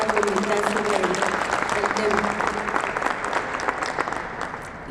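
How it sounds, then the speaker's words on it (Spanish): Sustained, strong applause from an audience at a book presentation in Mexico, a thick wash of clapping that stays loud and gradually tapers slightly, with faint voices underneath. "Les pido un fuerte aplauso"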